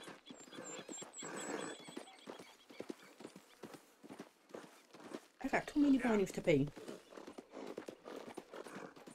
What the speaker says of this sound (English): Come on, horse, we gotta go.